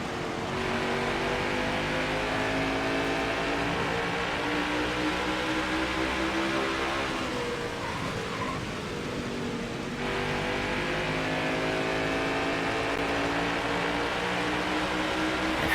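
A NASCAR Heat 5 race car at Richmond drones loudly and continuously, its engine revving up through the gears with a brief dip midway before the pitch climbs again, alone without talk.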